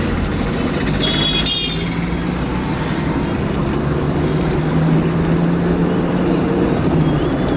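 A car on a road in India speeding up to overtake another car while other vehicles approach, with a loud steady engine and road roar close by, a brief high horn-like toot early on, and faint voices underneath.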